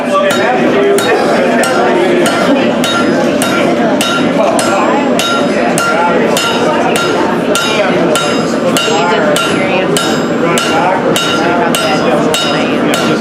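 Rapid, steady hammer blows ring out on hot metal, a dense run of sharp metallic strikes with clinking overtones lasting throughout, loud and close over a busy workshop background.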